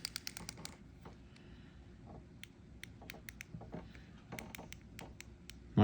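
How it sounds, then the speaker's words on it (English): KastKing Angry Shark fishing reel drag clicker, rapid bursts of sharp, quiet clicks in short irregular runs, close up with no talking. "You even get a drag clicker."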